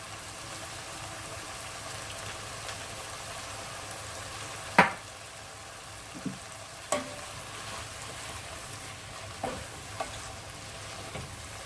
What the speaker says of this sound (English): Just wanting to cook the lamb a little bit more first before I add the tomato sauce.